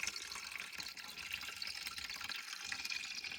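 Water runs steadily into a container, a continuous hissing pour with no voices.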